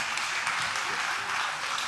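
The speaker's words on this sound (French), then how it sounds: "on peut les applaudir très chaleureusement" Warm, sustained applause from an audience for two chefs after a culinary duo cooking contest, dense and even, with no break in the clapping.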